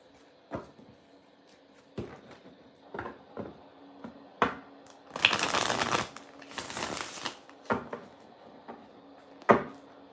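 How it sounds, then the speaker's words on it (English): A tarot card deck is shuffled by hand, sharp, separate taps and flicks spaced a second or two apart, with two longer riffling bursts near the middle, close and fairly quiet, with no talk. "I love the refill shuffle so much."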